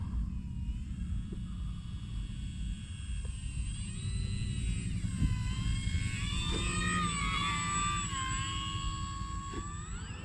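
An E-flite Maule M-7 radio-controlled model plane on 4S power comes in to land, its electric motor whining and shifting pitch as the throttle changes, steady and fairly close, with no talk.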